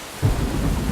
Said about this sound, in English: I love lightning storms too, but that's sudden on this level.